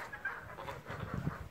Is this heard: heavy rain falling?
no